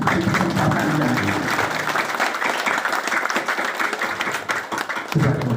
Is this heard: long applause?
yes